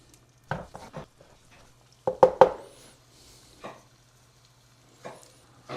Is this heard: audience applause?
no